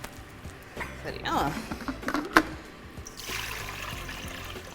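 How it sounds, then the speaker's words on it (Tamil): Ice water is poured into a container in a home kitchen while cooking tomatoes for pasta with marinara sauce, giving a brief trickling splash with some clinks, then a softer steady stream. "ஐஸ் தண்ணி ஊற்றி இந்த தக்காளி எடுத்து அதில் போட்டோம்னா"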